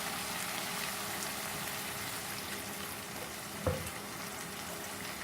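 Mutton keema masala sizzles quietly in a pan, a soft steady frying hiss broken by one brief splash as water goes in, faint and close with no talk.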